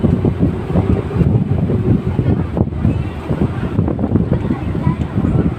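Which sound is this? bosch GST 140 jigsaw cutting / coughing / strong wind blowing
strong wind blowing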